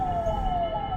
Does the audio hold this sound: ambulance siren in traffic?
yes